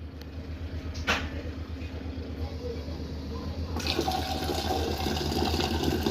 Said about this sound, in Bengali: ডিম সেদ্ধের জন্য পানি নিয়ে নিচ্ছি